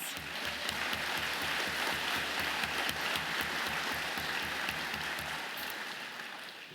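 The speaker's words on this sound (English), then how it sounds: "That deserves another round of applause." A large auditorium audience gives sustained applause at a tech event, a dense, continuous wash of many hands clapping that holds steady and then slowly tapers, with no speech over it.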